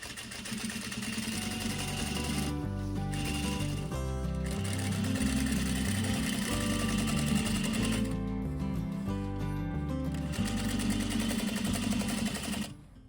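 A sewing machine stitches bed skirt fabric in a steady, close mechanical whir, with short pauses and restarts breaking the run of needle strokes.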